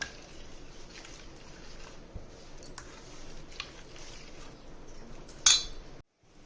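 Onion and green chili pieces stirred into rava dosa batter, soft wet squishing and faint clinks of a spoon against the bowl, quiet and close, with a sharper clink just before the end.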